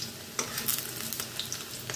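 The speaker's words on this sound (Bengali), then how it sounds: "বড়াগুলো আমি এরমভাবে ভেজে নিয়ে আসছি।" Fish roe fritters frying in hot oil, giving a steady close sizzle with occasional crackles and sputters throughout, with no voices.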